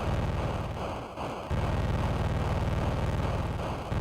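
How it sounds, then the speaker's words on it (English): Explosion in Atlantis on the Atari 2600: a harsh, buzzing stretch of static-like noise that briefly dips and then roars back, steady and loud. "And the explosion."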